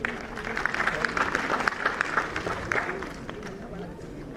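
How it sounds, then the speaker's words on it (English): Audience applause at a formal event on Agnihotra healing therapy, steady sustained clapping from a sizeable crowd that swells then gradually thins out over several seconds. "Please give them a huge round of applause."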